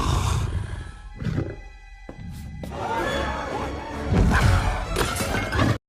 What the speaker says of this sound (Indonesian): Sampai kemudian seekor harimau tiba-tiba masuk ke dalam restoran.